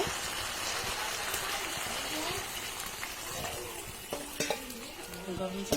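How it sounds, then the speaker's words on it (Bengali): Potatoes mixed with spices are stirred in a cooking pan under a steady frying sizzle, with a few sharper scraping strokes of the spatula toward the end. "এখন আবার একটু নাড়াচাড়া দিয়ে আলুগুলোর সাথে মশলার সাথে মিক্স করে দিব"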